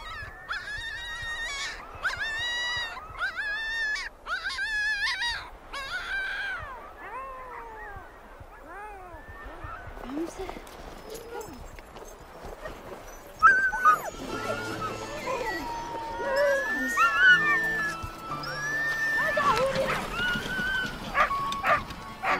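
Newborn Inuit sled dog puppies whimpering: a run of high, thin, wavering whines and squeaks, close and fairly loud, later joined by lower murmuring and rustling.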